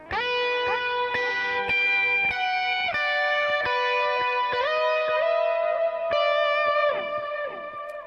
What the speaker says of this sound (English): And there's a glitz reverb.